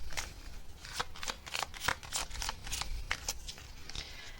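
Tarot cards shuffled by hand, a steady run of crisp riffling flicks and slaps, close and fairly quiet, with no talking.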